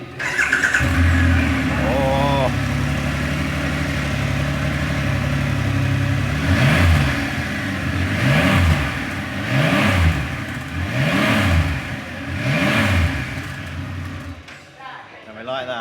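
A 2020 Triumph Rocket 3 motorcycle engine cranks and fires up close, then settles into a deep idle. Five evenly spaced throttle blips rise and fall, and a voice gives a short exclamation.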